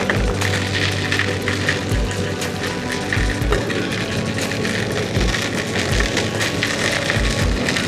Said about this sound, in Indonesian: hujannya tambah lebat